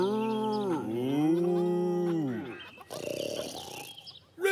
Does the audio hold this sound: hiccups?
no